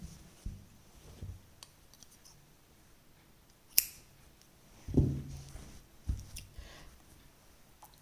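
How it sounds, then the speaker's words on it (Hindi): Scissors cut crochet thread on a small woollen dress, giving a handful of faint, sparse snips and clicks spread over quiet room tone, with one sharper cut midway. "एक चेन लेंगे और यहाँ पर हम धागा काट देंगे।"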